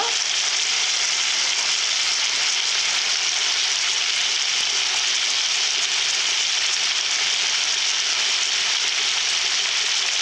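Potatoes and peas sautéing in a pan with salt, giving a loud, steady sizzle and frying hiss with faint scraping, unbroken and without speech.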